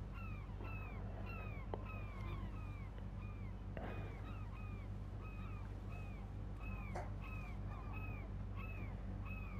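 Seagulls in the fishing game Fishing Planet call repeatedly over the open Pacific ocean, with short, arching cries recurring every second or so above a steady low rumble of boat engine and water.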